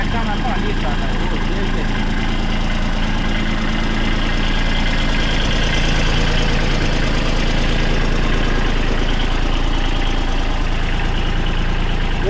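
Mini tractor engine running steadily close by, a dense continuous idling rumble with a knocking pulse and no pauses, loud throughout.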